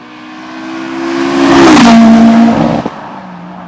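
Honda Integra DC5 with a VTEC K20 engine revving hard, the loud tonal rasp climbing in pitch to a peak, then settling and dropping off with a brief sharp pop near the end.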